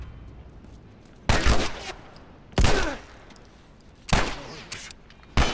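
Four loud, sharp bursts of gunfire ring out in The Last of Us Remastered, each followed by a short decaying echo, separated by quiet pauses.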